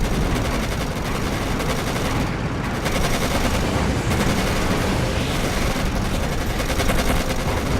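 Dense, sustained gunfire and machine-gun bursts from a World War II tank battle in the video game Codename: Panzer, loud and continuous with no voices.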